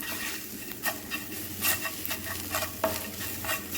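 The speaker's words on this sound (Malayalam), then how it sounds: "പെട്ടെന്ന് തന്നെ മിക്സ് ചെയ്തെടുക്കുക, അല്ലെങ്കിൽ കരിഞ്ഞു പോവും." Chicken 65 is stirred in a hot pan in a steady, rhythmic series of scraping strokes over a continuous sizzle, close up and with no talking.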